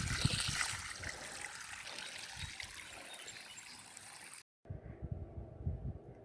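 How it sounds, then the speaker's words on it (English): Water pumped out from under a house trickles and splashes outdoors in a steady broadband wash, briefly cutting out near the end before a quieter, patchier flow resumes. "I'm pumping water out from under my house."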